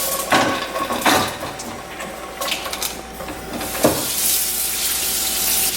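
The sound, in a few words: onion sizzling in olive oil in a pan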